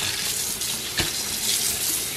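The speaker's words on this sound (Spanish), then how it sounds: "lo vamos a enjuagar muy bien" Tap water runs steadily into a kitchen sink while chiles and tomatoes are rinsed under it, a constant close hiss with one brief splash midway and no talking.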